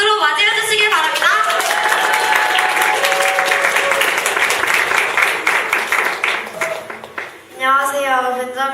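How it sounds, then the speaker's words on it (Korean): An audience at a school presentation event applauds a student speaker as she is introduced. Dense clapping runs underneath while a voice carries over it, then the applause thins out and speech continues alone at the end. "모두 큰 박수로 맞이해 주시길 바랍니다."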